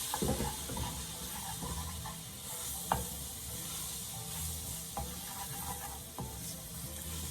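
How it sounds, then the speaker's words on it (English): Flour is stirred into melted butter in a pot to form a quick roux for creamy cremini mushroom soup, a soft low sizzle with a few spoon knocks and scrapes against the pan. "Give that a stir."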